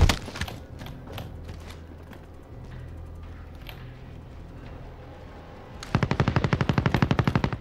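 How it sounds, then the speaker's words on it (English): Gunfire in the video game Call of Duty: Warzone, scattered single shots and distant bursts followed by a loud, rapid automatic burst near the end, with no speech. "There's shots ahead of me?"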